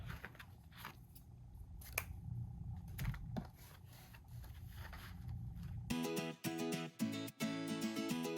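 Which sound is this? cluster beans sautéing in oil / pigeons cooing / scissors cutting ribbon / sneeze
scissors cutting ribbon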